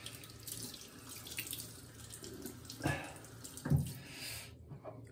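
A bathroom tap runs steadily into a sink during a shave with lather, a close continuous hiss and splash with a few louder gurgles, then it cuts off abruptly near the end.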